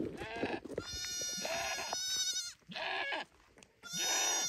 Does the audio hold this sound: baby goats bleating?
yes